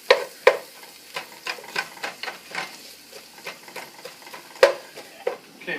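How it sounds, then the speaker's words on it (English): Onion and garlic sweating in a pan, a quiet background sizzle broken by a series of irregular scraping and tapping stirs of a utensil against the pan, two louder knocks standing out, and no voices. "and a little garlic. We're going to let these sweat, get nice and translucent."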